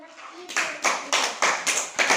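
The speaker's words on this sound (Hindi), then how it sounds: "आलोक सही है, आलोक के लिए ताली बजाओ।" Children in a classroom clap for a classmate in a burst of about six quick, loud rounds of applause, with a little voice murmur at the start.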